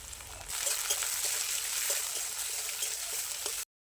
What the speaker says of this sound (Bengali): এখন পেঁয়াজ দিয়ে দেবো। পেঁয়াজটা একটু ভাজা ভাজা হলে